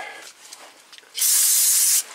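Short burst of spray rinsing on the rear brake of a 2014 Toyota Corolla S during a pad replacement, a loud close hiss lasting under a second after some faint handling noises.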